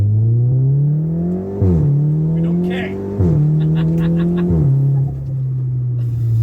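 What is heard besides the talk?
Volkswagen Golf GTD engine accelerating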